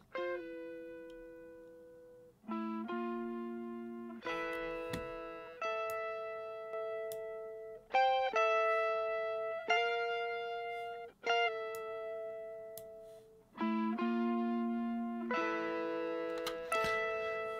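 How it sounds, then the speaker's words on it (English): Clean electric guitar plays sustained melodic notes and chords in a steady sequence, each ringing out with a light reverb tail, no voices. "so those are the lead guitars."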